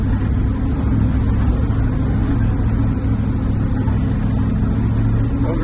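A 1970 Dodge D500 dump truck climbs a hill in second gear, its engine a loud, steady low-pitched drone that holds throughout with no talking over it.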